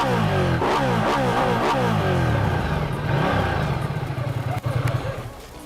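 Royal Enfield Meteor or Honda CB350 motorcycle exhaust revving loudly and close, with rising and falling engine pitch in several quick blips, then settling into a steady throbbing idle before fading.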